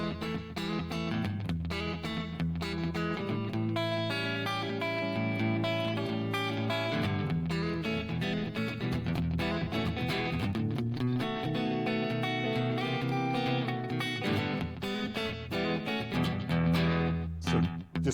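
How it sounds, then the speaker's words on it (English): An electric guitar plays a melody through a tape echo effect, each note trailing repeating echoes in a steady, sustained passage with a bass line underneath and no talking. "So here's the first tape echo sound"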